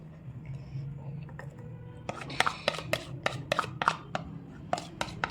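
Thick mehndi paste mixed with sugar drops and slaps into a stocking in a run of soft, wet plops and rubbing sounds, close and quiet, with someone speaking softly underneath.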